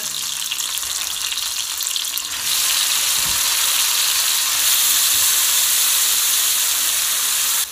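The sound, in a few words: peppers and tomatoes frying in oil for menemen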